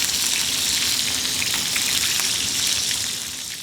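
Large beef chunks hit hot fried onions in a pan for a Guinness stew, giving a loud, steady, broadband sizzle that runs without a break and eases slightly at the end.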